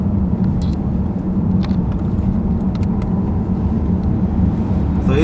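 A 2015 BMW 318 drives along steadily, its engine and road noise forming a constant low rumble heard from inside the cabin, with faint clicks and ticks over it.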